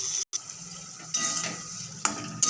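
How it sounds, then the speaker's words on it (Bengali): Spice paste of ginger, chili powder, cumin and turmeric with a splash of water being stirred and fried in a pan: a soft, steady sizzle broken by sharp clinks and scrapes of a spoon against the metal, close up, with no talking. "ভালো করে মশলাটাকে কষিয়ে নেব"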